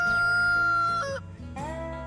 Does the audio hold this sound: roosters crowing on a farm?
yes